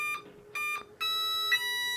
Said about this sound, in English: initialization tones from the ESC. Those 3 beeps indicated that I have a 3S pack connected to it